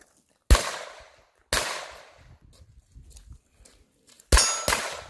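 Loud gunshots at an outdoor shooting range in Rock Castle, Kentucky, ringing out in a spaced burst of four sharp cracks, each trailing into a short reverberant decay, with faint metallic target clangs between them.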